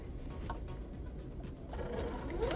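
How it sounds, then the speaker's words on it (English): A sewing machine stitches a fabric door bow in a short, quiet burst of rapid, even needle chatter, with the motor humming underneath. "Sew a little at a time."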